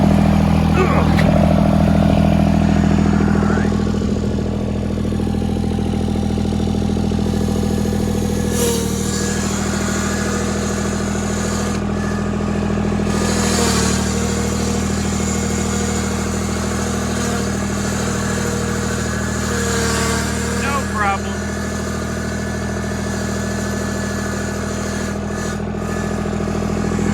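A turbocharged John Deere 330 tractor engine runs steadily throughout, a loud continuous drone with shifts in load as it pulls, and a person talks over it at times.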